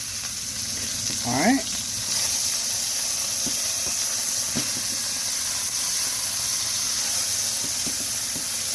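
Chili meat sears in a hot pan with a loud, steady hiss and crackle throughout, while someone speaks briefly over it.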